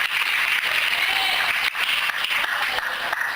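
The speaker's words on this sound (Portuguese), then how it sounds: "Você pode aplaudir ao Senhor nessa noite?" A church congregation applauds at a night service, a broad continuous wash of clapping from a sizable crowd, fairly loud and steady throughout, with no clear voices above it.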